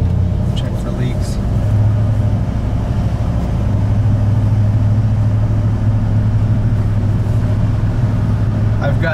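A car with a freshly serviced AOD automatic transmission drives around the block, its engine humming steadily with a low tonal drone from inside the cabin while a person talks over it.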